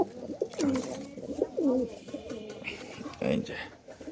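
A pigeon coos close by in repeated throaty, rolling phrases, with a few soft bird rustles between calls.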